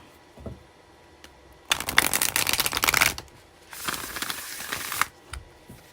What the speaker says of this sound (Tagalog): Hindi ko na masyado hahalukayin ng baraha